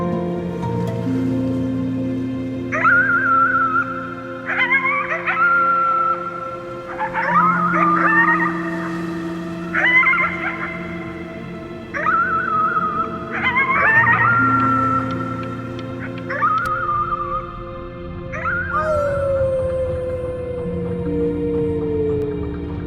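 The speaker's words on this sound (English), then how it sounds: "You howled at the moon, at the top of your lungs." A child in the video game Before Your Eyes howls at the moon at the top of their lungs, a series of rising, wavering howls repeated about eight times over a steady musical backdrop, with no talk.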